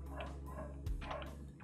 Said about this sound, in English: Apologies for the dog barking in the background.